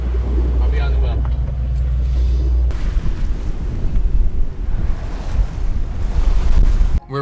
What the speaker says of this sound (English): These are definitely the strongest winds we've seen so far.